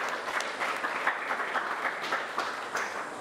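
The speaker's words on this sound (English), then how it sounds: "give yourself a little pat on the back or a round of applause" Audience applause at an annual award presentation day, a steady dense round of clapping from a crowd at moderate distance, sustained throughout without speech.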